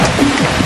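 Steady rain falls in a Kalimantan forest, a continuous broadband hiss of drops on foliage and surfaces filling the scene without pause.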